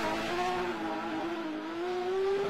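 A 4-litre rally car engine revs on a shakedown stage in Martinique, a loud sustained roar that climbs steadily in pitch as it accelerates, close and without voices.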